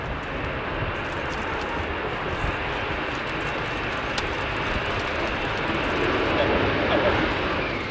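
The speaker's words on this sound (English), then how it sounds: "The nozzle's at 60 degrees, so about half of the thrust is going backwards and about half of the thrust is keeping the aircraft airborne" A Spanish Navy Harrier II EAV-8B+ jet flies at the RIAT 2019 air display at RAF Fairford with its nozzles angled, giving a continuous loud, broad engine roar that builds slightly toward the end, with commentary over it.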